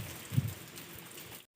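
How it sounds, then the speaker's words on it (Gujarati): Steady rain falling outdoors, a dense continuous hiss with one louder low thump early on, then cutting off abruptly near the end. "વરસાદ ચાલુ થઈ ગયો"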